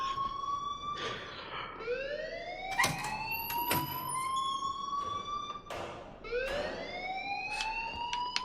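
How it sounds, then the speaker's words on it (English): A wailing electronic alarm in the Life is Strange video game, rising sweeps repeating every few seconds with layered tones, loud and steady, with occasional thumps in the background. "please turn off that alarm since that's your job"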